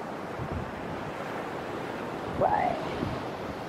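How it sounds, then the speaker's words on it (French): Atlantic Ocean waves wash faintly along the shore at Joe Batt's Arm on Fogo Island, giving a soft, steady rumble of surf with some wind. A short bird call rises briefly near the middle. "Et hop, des vagues."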